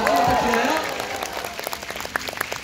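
A festival audience applauds, a brief burst of clapping that thins out over a couple of seconds. An announcer's voice rises over the start.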